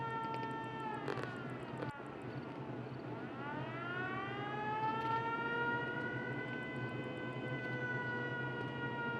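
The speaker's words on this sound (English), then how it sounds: "it looks like our siren went off. Someone tripped that wire." An alarm siren in Fallout 4 winds up and wails, a mechanical civil-defense style tone rising in pitch and holding, steady and fairly loud over game ambience, with brief clicks early on.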